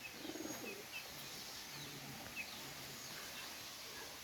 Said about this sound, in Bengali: ওমান টেডি এক পেয়ার কবুতর, যাদের লাগবে নিয়ে নিতে পারেন।